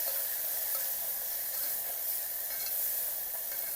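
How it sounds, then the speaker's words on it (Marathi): Finely ground black masala paste sautéing over a low flame for mutton rassa gives a steady, soft, even sizzle with no breaks and no voices. "कमी गॅसवर परतायचं। मिक्सरला बारीक केलेला मसाला परतून घ्यायचा छान व्यवस्थित।"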